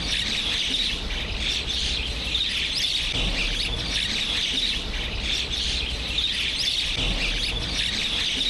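A dense chorus of many birds gathered at a feeding spot in Alamdanga, with continuous overlapping chirps and squawks, fairly near and lively, without talk.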